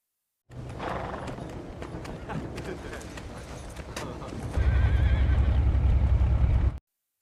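Horse neighing loudly near a road where military vehicles pass, followed by a dense, steady patter of hooves and a heavy rumbling underneath, with a voice briefly audible early on.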